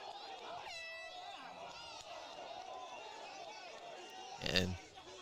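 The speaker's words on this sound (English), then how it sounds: "an errant air horn there with the shot clock winding down" A brief air horn blares near the end at a men's college lacrosse game as the shot clock winds down, cutting through quiet crowd murmur and distant voices.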